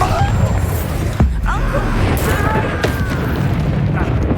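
A Bombarda spell explodes in the Hogwarts Legacy video game, giving a loud booming blast within continuous dense battle noise, with a voice talking over it.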